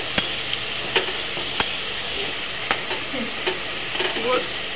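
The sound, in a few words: potatoes frying in oil with salt and turmeric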